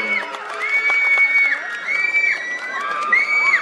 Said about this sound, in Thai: เสียงปรบมือให้กับวงโปงลางรวมดาวจากจังหวัดเล